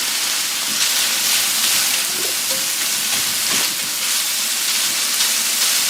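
Sausage frying in a pan, a loud continuous broadband sizzle and hiss without pause, close to the pan.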